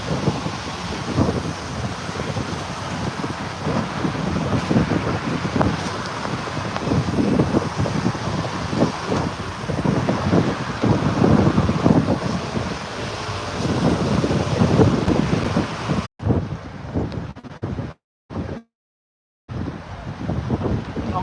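Strong, steady wind gusts outdoors in Rome, Italy, on a cold, sunny day, roaring as continuous broadband buffeting against the microphone, then cutting out abruptly in a few short gaps near the end.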